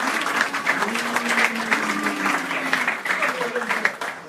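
An audience at a football club's presentation night applauds a player, steady clapping filling the room while voices talk underneath throughout.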